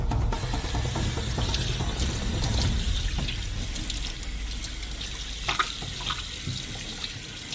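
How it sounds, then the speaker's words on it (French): Tap water runs steadily into a kitchen sink as a sturgeon head is rinsed under the stream, a continuous close splashing hiss with small bumps and clatters. "on va mettre la tête dans l'évier. Et on lui donne un bon coup d'eau pour qu'elle soit parfaitement propre."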